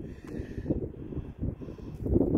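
Cold wind blows outdoors in a snowy setting, a low, rough rumble buffeting the microphone at a steady moderate level throughout, with no other sounds standing out.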